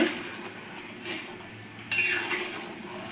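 Metal spoon stirring basanti pulao in a pot after sugar and salt go in: soft continuous scraping with a bright clink of utensil against metal midway, close and steady.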